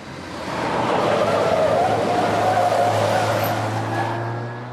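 A Rover car drives along a road and turns, its engine and tyre noise rising to a steady broad roar that holds for several seconds before easing off, with no voices present.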